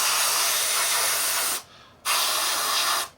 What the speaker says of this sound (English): we're just going round spraying in over the top of the silver in the middle of the panels